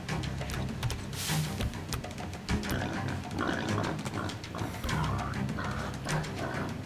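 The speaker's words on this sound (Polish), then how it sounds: "Świniaczki, prosiaczki." Pigs oinking in the video game Metro Exodus, a string of short grunts and squeals over busy game ambience with bird-like chirps, no talk.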